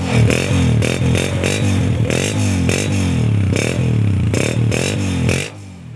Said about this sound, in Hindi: तो साउंड सुनाते हैं दोस्तों आपको। Honda 125 12 model